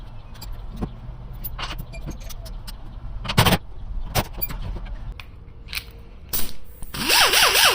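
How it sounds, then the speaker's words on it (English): A power tool works on the steering shaft of a Chevrolet Colorado truck with an LS engine swap, sounding in short sharp bursts amid metallic clinks and rattles in a garage, ending in a louder whirring run. "right now I'm taking the steering shaft off"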